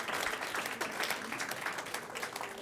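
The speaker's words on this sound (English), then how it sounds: "Let's give them another round of applause because that's a lot." A meeting audience claps in sustained applause, a dense even patter of many hands, close and fairly soft, with no voices over it.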